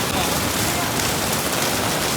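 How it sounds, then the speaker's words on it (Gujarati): A dense, loud downpour hisses steadily and continuously, close and unbroken. "એક નંબર વરસાદ પડી ગયો છે"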